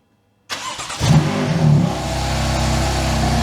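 A BMW M4 that has just had a turbo swap cranks and fires. The engine catches sharply, rises into a brief rev, then settles into a loud, steady, even idle close by.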